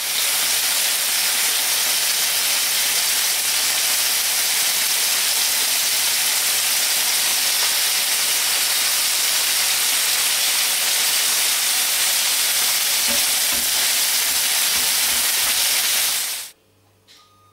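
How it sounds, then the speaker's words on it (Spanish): Deboned chicken thighs, floured, frying in olive oil in a pan, giving a steady, loud, continuous hiss and sizzle that holds without a break before cutting off abruptly near the end. "lo vamos harinando y freyendo en la sartén con aceite de oliva"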